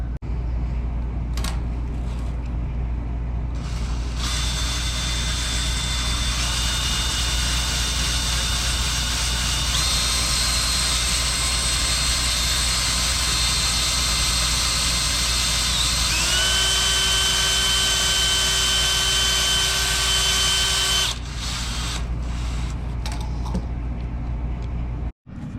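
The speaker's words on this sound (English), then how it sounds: "Just need a hone that fits on the drill" A drill spins a cylinder hone inside the cylinder of a 7.5 HP Fairbanks Morse engine, a steady loud whine with shifting pitch running for about seventeen seconds over a low background rumble, starting and stopping abruptly.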